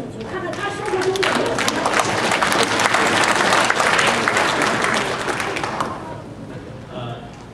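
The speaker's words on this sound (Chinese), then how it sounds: "我们现在鼓掌，请他来给我们讲几句" An audience claps to welcome a doctor as guest speaker. The sustained, dense applause builds, holds for several seconds, then tapers off into quieter room sound.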